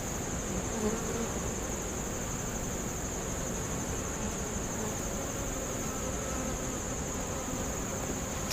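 Dense, steady buzzing of many honey bees close by inside a weakened, declining hive, a continuous droning hum with no pauses and no voices.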